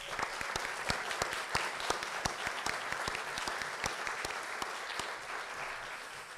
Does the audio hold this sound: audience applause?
yes